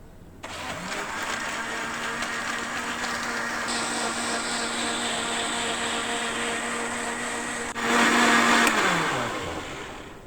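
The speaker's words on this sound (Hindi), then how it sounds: "तो अभी ब्लेंडर मशीन में जो है जल्दी से अपनी रेसिपी को जो है हम रेडी कर लेंगे।" A blender whirs steadily while mixing a mint margarita, a loud continuous motor drone that spins up at the start, holds for several seconds, briefly rises in pitch near the end and then winds down.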